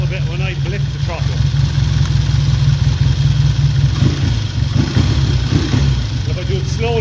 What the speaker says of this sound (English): It wants to cut out a bit when I blip the throttle.